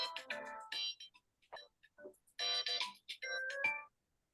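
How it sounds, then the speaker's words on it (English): A mobile phone ringtone goes off indoors at a town climate-plan presentation, a bright melodic chime in several short repeating bursts with gaps between, moderately loud and heard alone without talk. "excuse me, my phone"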